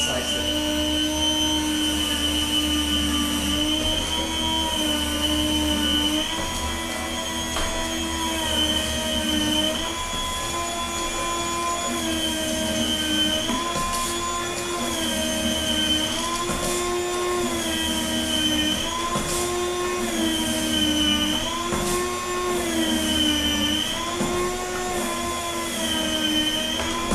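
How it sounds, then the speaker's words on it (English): A meat slicer runs steadily while cutting partially frozen beef into thin strips for jerky, its motor giving a loud, continuous whine with a wavering pitch for the whole stretch and no voices. "So I got my machine here, my slicer, and it's all ready to go. And I'll go ahead and slice it."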